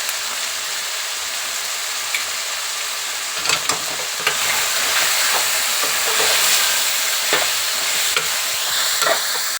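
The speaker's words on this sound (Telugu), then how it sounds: "ఇంట్లో చేసిన మసాలా, ఇవంతా ఒకసారి కలిపేద్దామండి." Chicken curry with brinjal, turmeric and homemade masala being stirred in a pan: a bright, steady sizzle broken by repeated scraping and clacking strokes of a utensil, close up and without speech.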